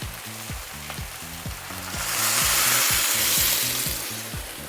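Stock pours into a hot pan of frying celery and onions for mushroom soup, a steady sizzle swelling into a loud hissing rush before easing back, over a low rhythmic mechanical thumping.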